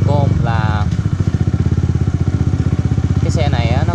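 Manual-clutch motorcycle engine running close by, a loud steady pulsing putter throughout with a rough, rhythmic firing beat, with a voice speaking briefly over it at the start and near the end.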